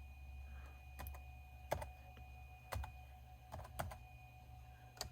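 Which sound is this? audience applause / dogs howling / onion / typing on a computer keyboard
typing on a computer keyboard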